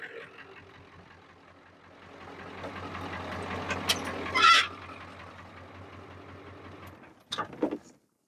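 A 1996 Ford 7.3 Powerstroke diesel engine idles with a low steady rumble, then shuts off near the end, leaving brief clicks and knocks before silence.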